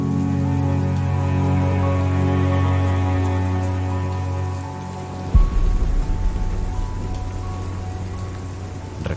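Steady, slanting rain falling outside a barracks window, a continuous wash of loud rainfall with a low tonal hum early on, then denser, rougher pattering from about five seconds onward; no voices.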